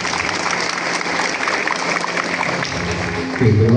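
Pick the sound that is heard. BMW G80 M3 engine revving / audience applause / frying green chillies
audience applause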